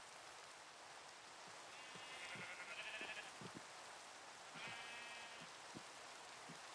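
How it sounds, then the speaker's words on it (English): A Minecraft sheep bleats faintly twice, short nasal cries standing out over a soft patter like rain in the background game ambience. "What's that sheep doing outside?"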